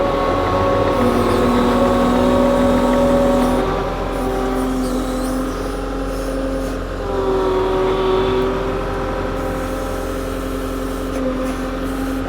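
Diesel engine of a track loader moving logs in a tight spot beside a building, a steady, loud mechanical drone with engine tones shifting up and down as the revs change.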